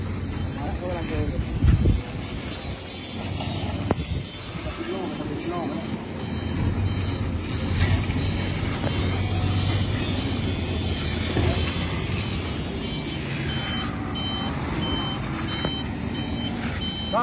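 Trucks moving around a temple hall construction site at Wat Khao Lek, with repeated reversing beeps over rumbling engines and someone talking over the traffic noise throughout.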